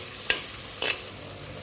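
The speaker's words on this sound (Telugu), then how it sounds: "ఇందులో ఇప్పుడు పుదీనా ఆకులను కూడా వేసి వేయించుకోవాలి" Mint leaves fry and get stirred in a pot of chicken biryani: two or three soft spoon scrapes over a faint, quiet sizzle, with no talking.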